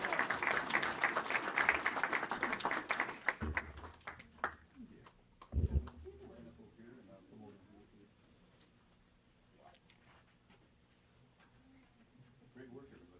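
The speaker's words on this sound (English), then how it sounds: "Get a nice round of applause." Applause from the audience at a city council meeting honoring a youth dance company: dense, steady clapping for about three seconds, then fading into scattered claps, thumps and quiet room noise.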